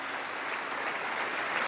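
Members of the US Congress applaud during a speech in the chamber, a dense, loud, continuous burst of clapping that stops abruptly at the end.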